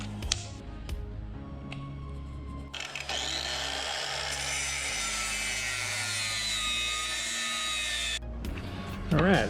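Sawing through a spacer of about 1 3/4 inches for a QS120 electric mini bike, a steady loud cutting hum from a power saw running continuously for several seconds, with brief handling noises before and after.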